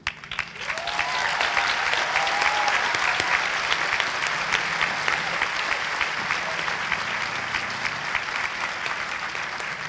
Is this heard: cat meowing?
no